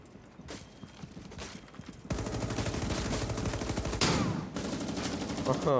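Gunfire in the video game AreaF2, starting with a few sparse shots and then dense rapid bursts that run steadily to the end, loud and close, with a few faint voices mixed in.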